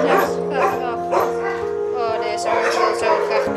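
A dog whimpers and makes soft yipping sounds up close while a person talks to it warmly throughout.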